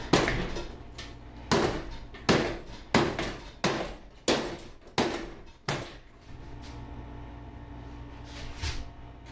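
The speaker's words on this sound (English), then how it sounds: "Maybe we can just hammer it on off there." Eight sharp hammer blows on metal in an uneven rhythm, each ringing briefly, knocking a part off a 1960s Rex Jet wagon, then quieter clanking and rustling after the blows stop.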